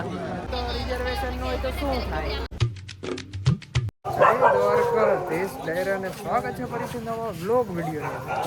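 A street dog barks amid busy background chatter and traffic in Dwarka in the morning, with a short burst of sharp yips in the middle before the noisy outdoor crowd sound returns.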